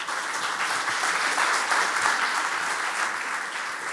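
Audience applause fills a hall at the World Gastronomy Summit 2025, a steady, dense wash of many hands clapping at even loudness for the full stretch.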